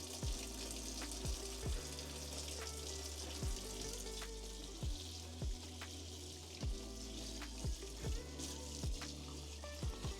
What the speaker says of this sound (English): just doing dishes